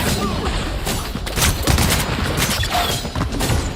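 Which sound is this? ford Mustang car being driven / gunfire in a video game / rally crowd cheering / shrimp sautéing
gunfire in a video game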